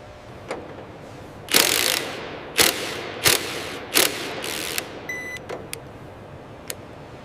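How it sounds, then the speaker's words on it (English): A torque wrench ratchets while final torque is applied during Rafale fighter jet assembly: several sharp bursts of clicking, each a short mechanical rattle, spaced a second or so apart, close and fairly loud in a quiet workshop. "Applying final torque now."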